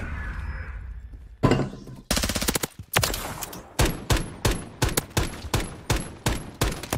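Rapid bursts of gunfire in the Modern Warfare III video game, a sharp rattling volley followed by a steady run of loud, evenly spaced shots close up, with no talk.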